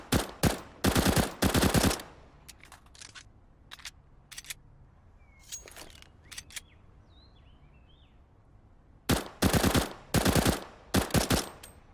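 Rapid bursts of CZ75 Auto pistol fire in CS:GO, several quick volleys with short pauses, scattered single shots and shell clinks between.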